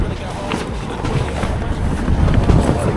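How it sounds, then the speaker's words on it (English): Wind blowing hard across a microphone outdoors, a continuous loud roaring buffet that swells and gusts throughout, with no clear speech over it. "It's windy."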